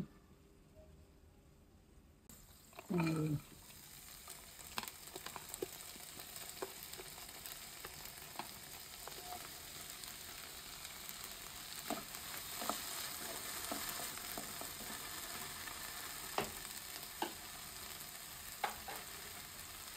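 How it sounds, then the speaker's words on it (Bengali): Sidol and chepa shutki (dried fish) dry-frying in a pan without oil give a steady, quiet sizzle, broken by scattered scraping and clicking from stirring. "এখন হলো ভাজবো তেল ছাড়া এই ভর্তাটা"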